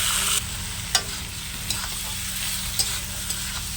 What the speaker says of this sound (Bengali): এবার আমি যে মাংসটা ম্যারিনেট করে রেখেছিলাম মাংসটা দিয়ে দিলাম